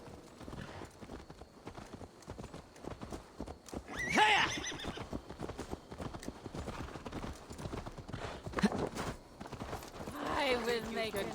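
Horse in the video game Assassin's Creed Valhalla whinnies loudly midway while steady hooves clip-clop throughout, with someone talking over much of it.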